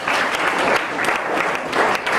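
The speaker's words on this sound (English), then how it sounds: "So clap for yourself," Students at Bachel International College applaud themselves, a steady, dense burst of clapping that fills the room for about two seconds without pause.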